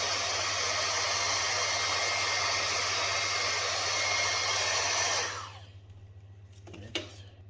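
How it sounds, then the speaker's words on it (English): A blower pushes air in a loud, steady hissing roar with a low hum beneath, then cuts off after about five seconds, leaving quiet room tone and a single soft knock. "Use the bigger blower."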